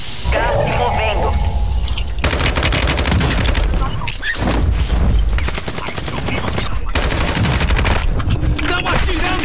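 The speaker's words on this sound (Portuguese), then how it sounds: "Estão atirando em mim." Loud, rapid automatic gunfire from Call of Duty: Warzone 2.0 in bursts with dense crackling shots, nearly continuous throughout, brief pauses between volleys.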